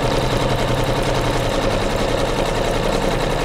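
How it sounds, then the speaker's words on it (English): An embroidery machine runs steadily, stitching a seam that joins two pieced fabric panels of a flag-block pillow, a loud continuous mechanical whir with fast even needle rhythm throughout and no talking. "So here we go. We're going to seam these two together."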